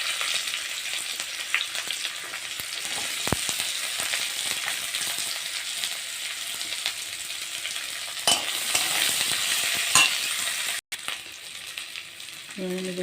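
Onion hits hot oil in a wok, giving a steady low sizzle with occasional stirring knocks and scrapes against the pan, fairly quiet and with no talking.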